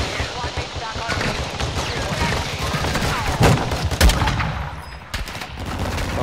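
Gunfire in Warzone 2, including sniper fire: several sharp shots and bursts scattered among dense battle noise, two standing out loud around the middle, with players talking throughout.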